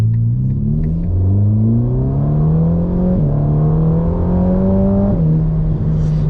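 A 2023 Ferrari Roma pulls away in first gear at Goodwood, its engine note climbing steadily through rising revs, then a brief dip and another climb as it continues accelerating, loud and close with no talk.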